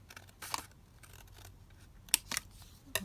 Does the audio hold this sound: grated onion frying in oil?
no